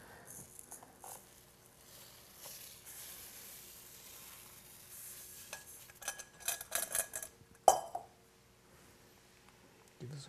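Boiling broth sizzles and bubbles in a pot as long green rice is stirred in for seafood jambalaya, a utensil scraping and clinking against the sides, growing busier and louder near the end before settling.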